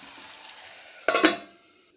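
Chopped small shallots fry in a pan with a faint steady hiss, then one quick, loud stirring scrape rises briefly and fades back to the soft sizzle.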